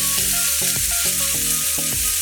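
Tomato and onions frying in a pan for Maggi fried noodles make a loud, continuous sizzle, with repeated scraping stirs of a utensil against the pan and no talking.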